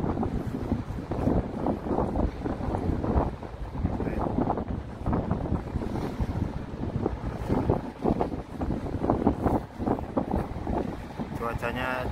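Strong wind buffets the microphone at a harbour where a broken-down anchovy fishing boat with its engine removed is being towed in hot weather, a steady loud roar of gusts and water throughout.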